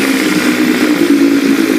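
A small engine with a float carburetor runs steadily on its last bit of fuel, a loud, even idle with a constant mid-pitched hum and no change in speed.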